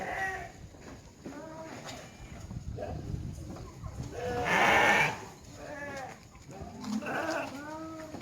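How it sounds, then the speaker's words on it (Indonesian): A goat bleats repeatedly, several wavering cries close by with a louder, harsher call in the middle, alongside what sounds like other farm animals in the background. "ini kambing."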